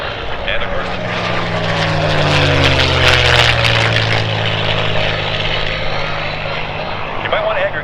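A TBM warbird passes over airshow center, its loud droning propeller engine swelling and steadying with a clear pitch shift as it goes by, while an announcer talks over the public address.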